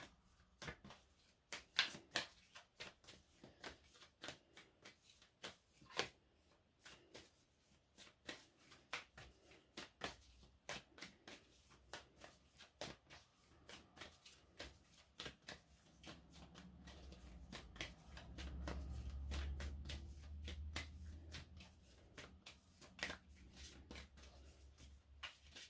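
A tarot deck being shuffled by hand before a card is drawn, quiet repeated riffling and card flicks close by, with a soft rustling swell near the end.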